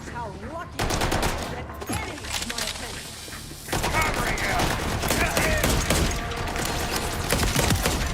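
Rapid pistol gunfire in the video game Borderlands, loud, dense volleys of shots with mechanical clicks and game effects, continuing through most of the stretch with voices intermittently underneath.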